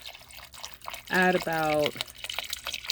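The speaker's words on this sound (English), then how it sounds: "now I'm going to add my filtered water" Filtered water pours into a jar holding a pineapple drink, a short watery gush of about a second that rises over steady talking.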